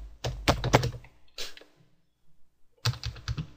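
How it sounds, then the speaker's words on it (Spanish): Rapid clusters of keystrokes on a computer keyboard with a Spanish layout, close and crisp, arriving in quick bursts separated by a quiet gap of about a second. "Esto es lo que escribí en el teclado, en verdad."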